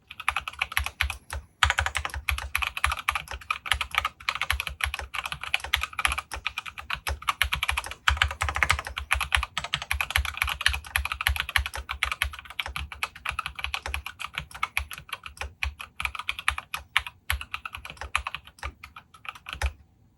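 Typing runs steadily on a GMMK Pro mechanical keyboard with Alpaca switches and an aluminium plate. Continuous close clacks at a brisk, uneven pace carry on throughout with no voices.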